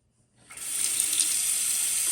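Water running from a Pfister faucet, starting after a brief quiet moment and then rushing at a steady, loud, close hiss for the rest of the clip.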